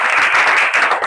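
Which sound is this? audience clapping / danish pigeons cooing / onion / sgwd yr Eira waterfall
audience clapping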